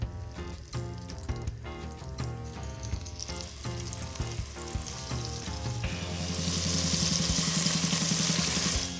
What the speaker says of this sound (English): So you can see I've got my beef there. That's browning, that's almost done, ready for batch 2.